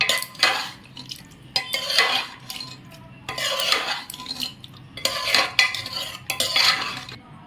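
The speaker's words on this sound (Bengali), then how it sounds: "এবার সমস্ত মশলাগুলো একসঙ্গে মাংসের সঙ্গে একটু মিক্সড করে নেব।" Spices being stirred into mutton curry in a metal pot, Bihari style: repeated scraping and clinking of a spoon against the pot in uneven bursts, close and fairly loud, with no talking.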